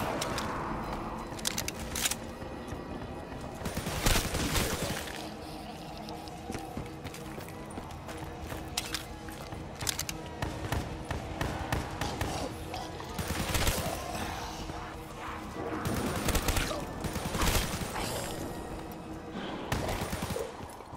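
Bootlegger gunfire in Call of Duty Black Ops 3 zombies mode, a quiet mix of repeated shot bursts and game clatter throughout with intermittent louder volleys, and no clear talk.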